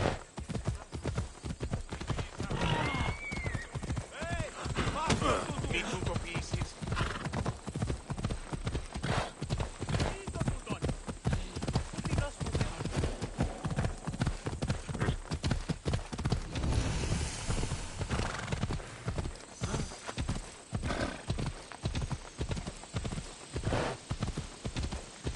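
Steady clip-clop of horse hooves while riding in Assassin's Creed Odyssey, a continuous rhythmic gallop running the whole time alongside occasional whinnies and a faint voice.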